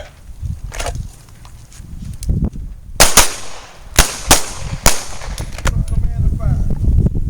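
Pistol shots fired on command in a self-defense drill, a handful of sharp, loud cracks spaced a second or so apart over outdoor background noise, with no talking between them.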